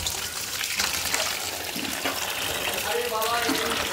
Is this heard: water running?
yes